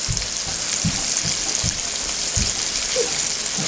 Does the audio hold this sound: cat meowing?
no